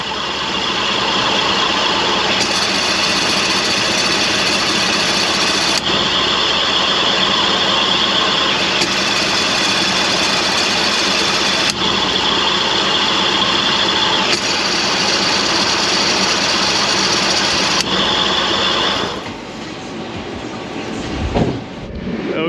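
Air conditioning compressor on a Ford F-150 with the 5.4 engine, heard from underneath the truck: a loud, steady mechanical drone with faint clicks every few seconds, then it stops abruptly near the end.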